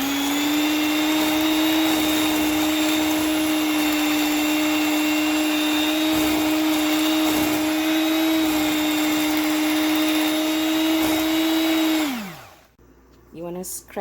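An electric mixer beats almond butter chocolate chip cookie batter with mashed banana, a loud steady motor whine running for about twelve seconds before spinning down and stopping, followed by a few faint knocks.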